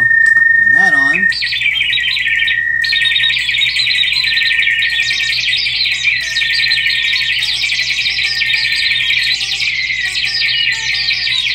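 A guitar effects pedal with delay makes synthetic bird-like chirps: a loud, continuous stream of warbling, twittering high tones that starts with a brief swooping pitch and then runs without a break.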